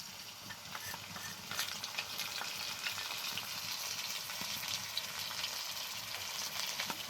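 Onions sizzle in hot oil in a pan as ginger-garlic paste goes in for a Bengali biryani, a steady low crackle with occasional spatters and stirring scrapes, fairly quiet and with no talk.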